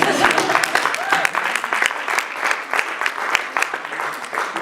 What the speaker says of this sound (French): On va applaudir quand même